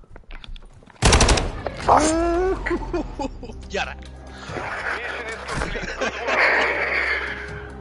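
Bursts of automatic gunfire from a video game crack out loudly and rapidly, followed by scattered shots and game action noise, with excited players talking and laughing over it.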